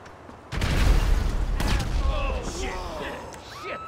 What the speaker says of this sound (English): I'm just going to chuck a grenade in there.